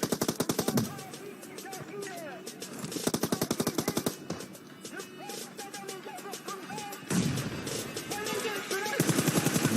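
Rapid bursts of gunfire-like blasts from bombs dropping and exploding in an online video game, arriving in several loud clusters with quieter gaps between them.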